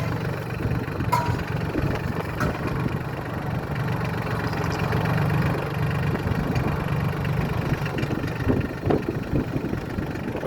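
A Solis 26 tractor engine runs steadily at low revs, a continuous low rumble with mechanical vibration holding at even loudness throughout, heard up close without talk.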